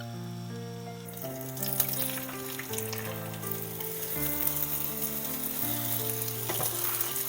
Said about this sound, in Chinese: 锅里来点油，把鸡蛋液倒进来